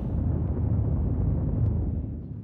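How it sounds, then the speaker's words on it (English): A large explosion in the space game Star Citizen rumbles as a loud, sustained low roar, dense and steady for a couple of seconds before it eases off slightly at the end. "The explosion's gonna be right there."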